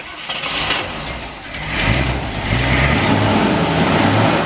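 A 1958 Chevrolet Bel Air with a mild cam and dual exhaust cranks and fires up, settling into a loud, close, lumpy idle with a deep burbling rumble, no talking.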